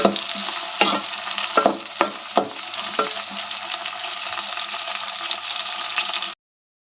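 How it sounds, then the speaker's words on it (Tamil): Eggplant sizzles in hot oil while being stirred, a steady frying hiss broken by several sharp scraping knocks of a spoon against the pan early on, then cutting off abruptly. "இது எண்ணெயிலே நல்லா வதங்கட்டும் கத்திரிக்காய்."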